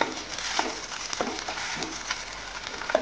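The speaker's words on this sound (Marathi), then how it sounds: "आपण याच्यामध्ये आपली हिरवी मिरची, लसण आणि अद्रकीची पेस्ट टाकून घेणार आहोत." Green chili, garlic and ginger paste fries with onion in hot oil, giving a continuous close sizzle with a few soft stirring scrapes.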